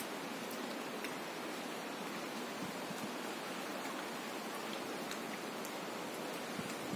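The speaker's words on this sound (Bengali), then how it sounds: "হালকা হালকা বৃষ্টি হচ্ছে" Light rain falls steadily after Cyclone Remal, a soft, even hiss of drizzle on a rooftop with occasional faint drips, low and constant throughout.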